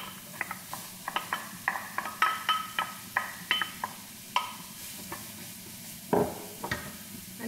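Onion frying in oil is stirred in a pan, with a run of short scraping clinks at an irregular rhythm over a soft, faint sizzle.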